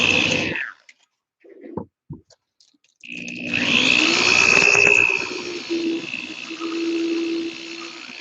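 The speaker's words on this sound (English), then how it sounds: "So first I take the dowel and insert it into the drill." A power drill whirs up to speed with a high, steady whine and a gritty rubbing noise as it spins a wooden dowel against sandpaper, after a few short starts and pauses.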